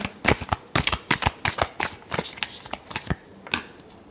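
Tarot cards being shuffled by hand: a quick series of crisp riffles and flutters in uneven bursts, close and clear, with no talking.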